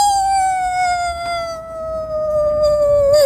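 A person imitates a wolf howl for a live haunted-house sound effects show, one long sustained wavering voiced tone sliding slowly downward, loud and alone for about three seconds.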